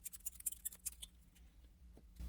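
A deck of game cards is shuffled, a quick run of crisp riffling clicks for about a second, close and fairly quiet, followed by a softer settling rustle.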